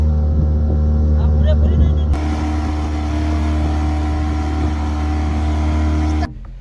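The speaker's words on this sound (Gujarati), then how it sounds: "મિત્રો એન્જિનની તાકાત પણ એમ જ છે ને સ્પીડમાં બોટ એમને એમ જ હાલે છે" A fishing boat's engine runs at speed out at sea on a rawas fishing trip, a loud steady droning hum with strong low tones throughout, close by, with an abrupt shift in texture partway and a cutoff near the end.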